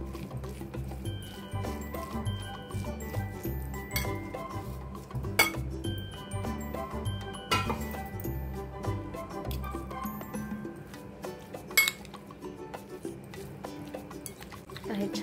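A spoon stirs a fresh turmeric pickle mixture in a bowl, giving rhythmic scraping and clinking against the dish, close and moderately quiet, with occasional sharper taps and a voice talking over it.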